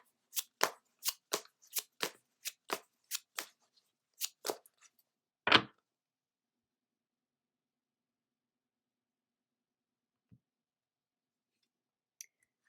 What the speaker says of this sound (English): We will be pulling the first card from the Light Seer Tarot.